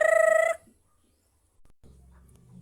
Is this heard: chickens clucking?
yes